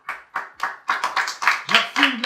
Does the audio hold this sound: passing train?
no